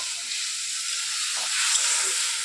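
Fish curry with mustard and spices sizzles steadily in a pan while being stirred, a continuous close hiss with slight swells and no talking.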